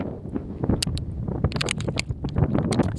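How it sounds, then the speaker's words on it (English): Gusty wind buffets the microphone on a windy day outdoors, a steady low rumble with rustling bursts running throughout and no speech. "it's windy"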